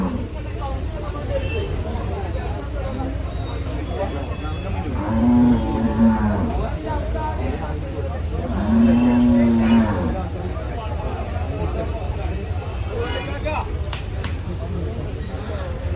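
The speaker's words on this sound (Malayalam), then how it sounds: "കാളകളുണ്ട്, മൂരികളുണ്ട്, പോത്തുകളുണ്ട്" Bulls and cattle at a busy festival livestock market in Manjeri, with two loud drawn-out moos rising over a steady crowd hubbub of people talking nearby.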